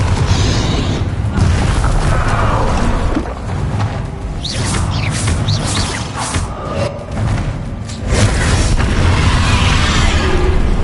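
Confringo spell blasts in the video game Hogwarts Legacy hit as loud booms and bursts with whooshes, set in a dense, continuous combat soundscape that swells near the end.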